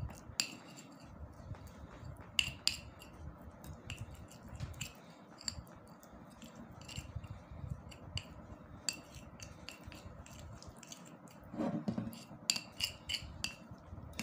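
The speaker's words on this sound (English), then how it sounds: "Then I'll mix it properly with the bitter cola." A spoon clinks and scrapes against a container while honey is mixed with bitter kola, giving irregular light taps and clatters with short pauses and a busier burst near the end.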